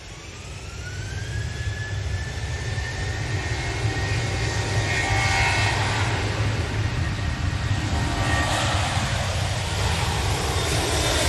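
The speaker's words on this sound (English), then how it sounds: "Next departure is a Jet 2737 for Rome." Jet2 Boeing 737 jet departing an airport for Rome, a loud sustained engine roar with a rising whine that builds and holds steadily throughout, heard alone from nearby.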